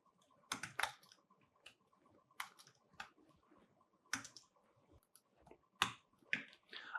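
Scattered keystrokes on a computer keyboard while writing JavaScript code, with single sharp clicks and small clusters spaced irregularly, close and quiet.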